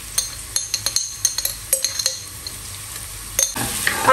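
Ginger garlic paste frying in a home kitchen pan gives a steady soft sizzle, broken by repeated sharp clinks and scrapes of a utensil stirring against the metal, with a louder hiss swelling toward the end.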